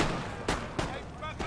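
Musket volleys from infantry lines in the video game Empire: Total War, a Prussia campaign: several sharp, loud reports in close succession, a couple of crackling bursts standing out against a steady background din of battle.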